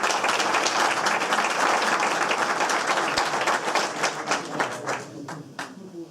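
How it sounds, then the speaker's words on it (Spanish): An audience at a campaign candidacy presentation in Valladolid applauds, dense steady clapping that stays loud and close, then thins into fewer separate claps toward the end. "Otro aplauso para David."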